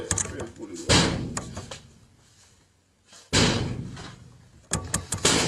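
A door is pulled and slammed several times, sharp loud bangs separated by pauses, with voices talking between the impacts.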